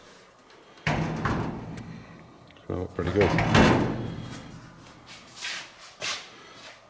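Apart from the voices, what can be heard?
door of 1930s barn find car pickup truck shutting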